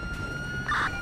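A police car siren in the video game GTA 5 gives a thin, steady tone that swells into a brief warbling wail near the end of a very short moment.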